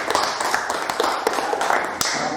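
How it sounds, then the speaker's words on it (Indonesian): Students in a classroom clap for a discussion group, a steady, dense round of close applause lasting a couple of seconds. "tepuk tangan untuk kelompok 2"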